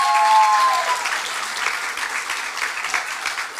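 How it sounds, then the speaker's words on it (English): Sustained applause from a large audience at a fall startup founders showcase, dense and steady for several seconds with a few bright tonal whistles early on and no talking. "Can we get another round of applause for these amazing founders?"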